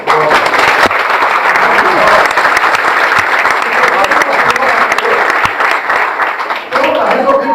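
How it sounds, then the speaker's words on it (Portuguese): A congregation at a church congress applauds, a loud, continuous wash of clapping lasting several seconds, with some voices and cheers mixed into the crowd noise. "Palmas ao Senhor."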